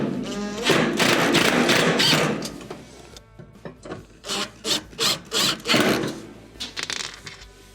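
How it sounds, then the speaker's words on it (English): Screws being driven back into the bottom of the access plate on a Whirlpool stove, heard as close rubbing, scraping metal and a run of short rhythmic turning bursts, loud and up close with no talk. "reinstall your 2 bottom screws"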